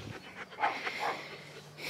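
A friendly stray dog at a barn panting softly and steadily up close, quick rhythmic breaths at a low level with faint ambient noise.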